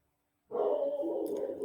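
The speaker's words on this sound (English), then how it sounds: "Oh, that dog." A dog barks close by, breaking a short silence with one loud, sustained burst of sound that lasts just over a second.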